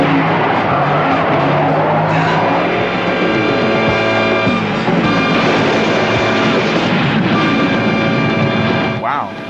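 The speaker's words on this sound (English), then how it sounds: "a tanker truck rigged to create an oil slick to send his van spinning off the road" From the 1979 Captain America film, a van skids and spins off a mountain road on an oil slick, a loud continuous roar of engine and tyre noise with scraping and shifting tones throughout.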